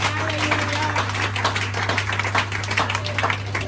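Church congregation clapping hands at a Sunday christening service, rhythmic claps over a steady low hum from the sound system, with voices mixed in.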